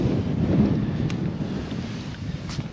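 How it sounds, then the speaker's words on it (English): A strong gust of wind over a lake in Maine during a brook trout fishing outing buffets the microphone with a continuous, loud low rumble and faint water and boat noise beneath. "Pretty good gust of wind right there."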